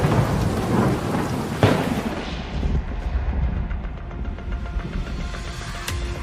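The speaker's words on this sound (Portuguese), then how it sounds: "Chuvas de granizo começaram a cair no dia 27 de abril na região central do estado." Heavy rain and hail pour down in a thunderstorm in central Rio Grande do Sul, Brazil, with a sharp loud thunder crack near the start over a steady dense roar of falling water.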